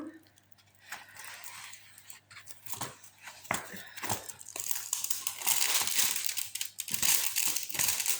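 Crinkly transparent paper handled during an unboxing, with close, irregular rustling and crackling that builds into dense crinkling in the second half, and no talk over it.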